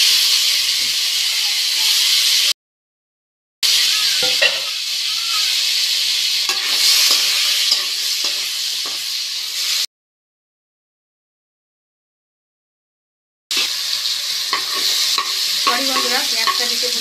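Turmeric-coated green plantain and potatoes with slit green chillies fry in a wok with a steady, close sizzle and hiss, plus scraping stirs. The sizzle cuts out completely twice for a few seconds each time.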